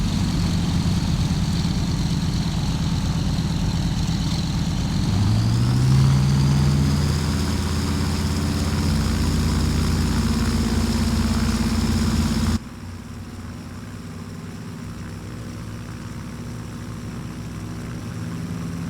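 A DC-3's engines in Flight Simulator X throttle up for takeoff, a loud steady drone that rises in pitch partway through, then drops to a quieter, thinner hum near the end.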